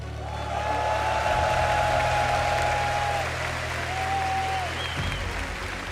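A large arena crowd claps and cheers in sustained applause at the Rocket League World Championship, loud and steady throughout with a few whistles.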